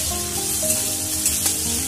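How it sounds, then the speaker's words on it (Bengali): Potatoes fry in oil in a wok, giving a steady close sizzle with a few faint clinks and stirring sounds. "আবারও কড়াইয়ে তেল অ্যাড করে আলুগুলো ভালোভাবে ভেজে নেব।"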